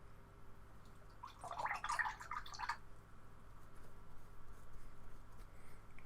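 Paintbrush swished and rinsed in a water jar during acrylic still-life painting, a brief soft splashing and dripping lasting about a second, faint against quiet room tone.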